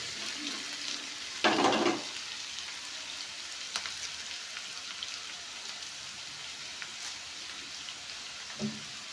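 Snake gourd pieces sizzle steadily in a pan as they are stir-fried, with a loud scraping stir burst early on and a few fainter clicks of the spatula against the pan over continuous close frying hiss; no talking.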